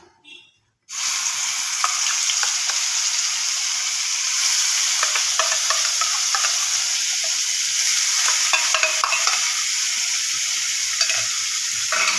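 Onion paste fries in hot oil for a Bengali katla fish curry, giving a steady loud sizzle and hiss throughout with occasional soft stirring scrapes and no voices.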